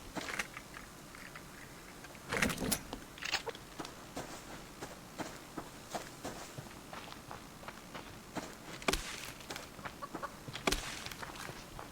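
A chicken in the survival game Subsistence clucks in short scattered bursts over a quiet background, mixed with soft footstep-like taps and occasional louder clicks.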